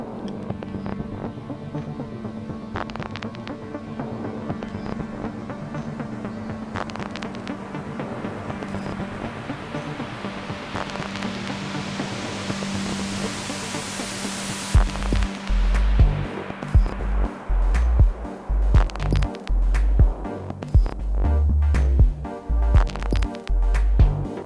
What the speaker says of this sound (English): let's have a listen with the build up of the white noise here